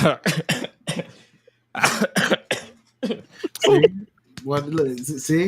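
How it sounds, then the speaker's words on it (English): A person coughs several times in short bursts, with brief talking mixed in between the coughs. "I'm still fighting back a little tiny cough"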